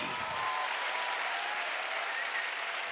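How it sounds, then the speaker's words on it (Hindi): A crowd applauds steadily, dense clapping sustained from start to finish with no gaps. "तो आने वाली ताली बजा के दिखाइएगा"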